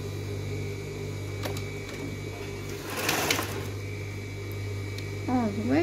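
Sewing machine stitching plain side seams on a children's swimsuit, a steady close mechanical hum running throughout with a brief louder burst midway and a short squeaky sweep near the end, no speech.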